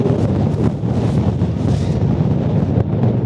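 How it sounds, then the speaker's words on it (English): Strong high desert wind in Arizona roars and buffets the microphone in a continuous loud rush with gusty surges, and no voices are heard. "This wind in Arizona is nothing to be trifled with."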